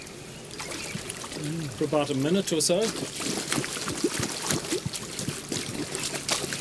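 River water splashes and churns as a sampling net is swept through a muddy riverbed, with uneven sloshing close by while someone talks over it.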